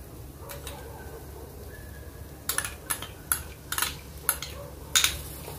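Spoon stirring masala in a pan after yogurt goes in for a paneer dish: a series of sharp metallic scrapes and clinks in an uneven rhythm, close, over a faint steady background hum.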